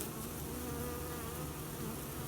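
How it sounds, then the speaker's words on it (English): A dense, continuous drone of honey bees buzzing around a Langstroth hive just after a swarm install, many insects close by, steady in loudness with no voices. "The bees are settling down. There's still a few flying around"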